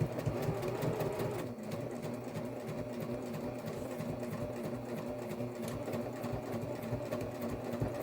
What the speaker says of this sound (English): I'm going to do a top stitch, so I'm turning my stitch length up a little bit for this.